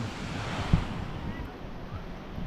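Continuous roar of waves breaking on Casapsapan beach, broad and fairly loud, with wind buffeting the mic and a brief knock near the start, during light drizzle.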